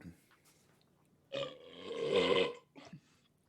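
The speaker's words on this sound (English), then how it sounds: "You can burp" A loud, drawn-out burp lasting about a second, followed by a short softer one, with quiet murmuring before it.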